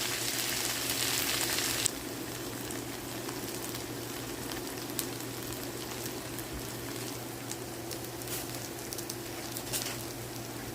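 Bangus (milkfish) sisig frying and crisping in a pan, a steady dense sizzle with a louder burst in the first two seconds, then an even crackle close by with no talking.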